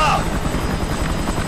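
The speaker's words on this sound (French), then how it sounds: "Pas mal les hélicos à double portée." A helicopter's rotor thumps in a steady rapid chop in Kane & Lynch 2, loud and close throughout the short moment, with a voice faintly present underneath.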